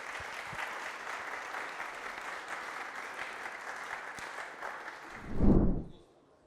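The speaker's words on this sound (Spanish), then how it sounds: "démosle un aplauso a Alonso." An audience at a tech talk on AI agents and vibe coding applauds after a presentation. The clapping is sustained and even for about five seconds, then a brief low thump rises and the sound stops abruptly.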